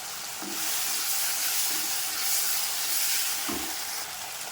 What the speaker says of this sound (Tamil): இப்போ இது தக்காளியும் நல்லா வெங்காயமும் வேகட்டும்